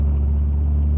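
Deep, loud exhaust rumble from a Dodge 3500 pickup with 160,000 miles and a 4-inch turbo-back straight pipe, no catalytic converter and no muffler, a steady low drone heard from inside the cab.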